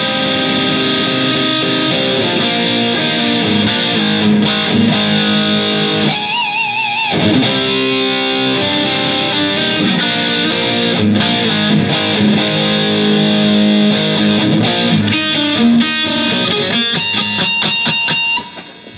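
Distorted electric guitar plays a section of a song with an effects unit, loud and sustained with ringing chords and quick rhythmic stabs, alone without talk, then cuts off at the end.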